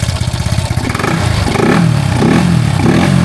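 A Honda Wave 110i motorcycle engine with a stumbling fault, run cold, revs up from a choppy idle into a loud, sustained, slightly uneven roar close by, with no voices.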